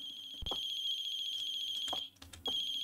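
A mobile phone rings in the horror game The Closing Shift, a steady high electronic tone repeating with a few soft thumps and clicks in between, heard alone without talk.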